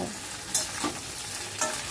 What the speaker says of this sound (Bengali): বেগুনটা দিয়ে আবারও সব কিছু ভালো করে একটু ভাজা ভাজা মতো করে নেব।